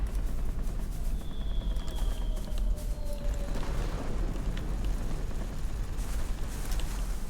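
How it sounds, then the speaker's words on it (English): Bombs dropped from a Fi 98 plane in World of Warplanes explode in a steady, dense rumble of blasts with continuous engine drone, no clear separate booms, and no talking. "Drop a couple bombs there. See if I can set that thing on fire."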